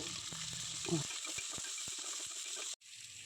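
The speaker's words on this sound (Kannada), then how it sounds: "ಎಣ್ಣೆ ಕಾದ ನಂತರ ಮೆಣಸಿನಕಾಯಿ, ಪುದೀನ ಸೊಪ್ಪು, ಈರುಳ್ಳಿ ಹಾಕ್ಕೊಂಡು ಹುರ್ಕೋಬೇಕು" Chilies, mint leaves and onion sizzle in hot oil, a steady close hiss with a few clacks of stirring before the sound briefly cuts out.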